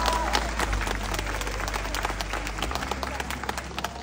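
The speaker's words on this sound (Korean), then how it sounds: "여러분 큰 박수 드릴게요." An audience at a concert award ceremony claps steadily in a dense, sustained round of applause with some crowd noise, fairly loud, over a low steady hum.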